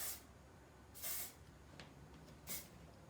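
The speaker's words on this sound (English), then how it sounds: "A little hairspray." Three short, close hisses of hairspray are sprayed onto hair being styled into a low ponytail updo, with quiet pauses between the bursts and no talking.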